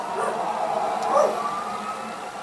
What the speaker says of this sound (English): I know you guys can hear the sirens